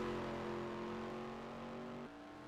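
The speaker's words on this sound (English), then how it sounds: "you can just hear a difference in how healthy that truck sounds" Sprint race truck engine holding a steady high-pitched drone as it runs around a racetrack, fairly distant and even, with a slight drop in pitch near the end and no voices.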